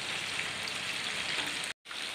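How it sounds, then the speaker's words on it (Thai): Heavy rain pours outside a house under a rose apple tree, a dense, even hiss of drops that runs steadily, broken only by a brief dropout near the end. "ตอนนี้ฝนเริ่มตกแรงขึ้นแล้วเพื่อน"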